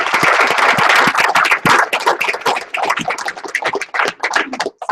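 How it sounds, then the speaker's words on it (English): An audience at a Sunday business training event breaks into a loud, dense round of applause, sustained clapping that starts and ends abruptly and fills the whole stretch at close range. "Give everybody a round of applause."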